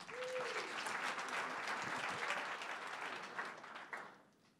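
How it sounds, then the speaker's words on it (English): Audience applause at a startup pitch event at a tech village, a steady dense round of clapping that holds for about four seconds and then fades out at the end. "warm round of applause for our third presenter"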